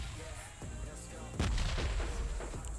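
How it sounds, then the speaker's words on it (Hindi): Gunfire in the battle-royale game PUBG Lite near a stadium, several sharp distant-sounding shots and booming reports, with a heavier burst midway, each crack followed by echoing tails. "स्टेडियम के साइड से गन शॉट्स की आवाज़ आती है"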